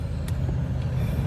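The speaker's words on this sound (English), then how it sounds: "This truck finna ride past me so loud." A loud truck rumbles past nearby with heavy low-frequency engine noise and a brief hiss like an air brake release, steady throughout with no talking.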